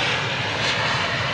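Airliner engines of a Qantas flight roar in a dense, continuous broadband rush, loud and steady over a short stretch with no voices.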